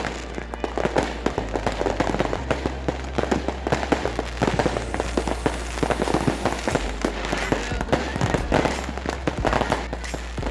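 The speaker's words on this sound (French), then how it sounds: "nous sommes descendus sur la plage de Patong pour assister au fameux feu d'artifice" New Year fireworks on Patong beach in Thailand: a dense, continuous barrage of bangs and crackles, near and loud, with rapid overlapping bursts and a steady low rumble throughout.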